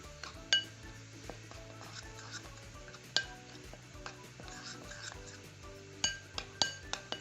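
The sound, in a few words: mixing flour coating with salt in a bowl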